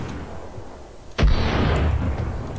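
A single heavy shot booms from another player in the shooter game Krunker, a sudden loud blast after a quieter stretch, followed by a sustained rumbling tail.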